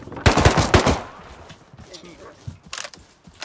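Rapid automatic gunfire in a multiplayer shooter video game, a loud burst of close shots followed by scattered quieter shots and footsteps under faint talk.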